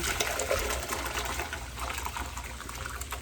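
Water pours steadily from a tap into a big soup pot, a continuous broadband gush that fills the whole moment at close range with no talking.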